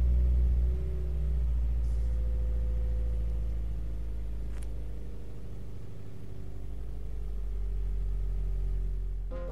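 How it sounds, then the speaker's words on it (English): Engine of a 2015 Subaru WRX idling steadily after a cold start, a low continuous rumble with a faint change in pitch as it settles, close by with no talk. "Cold start."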